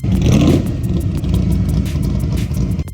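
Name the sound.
Corvette C3 engine revving with side exhaust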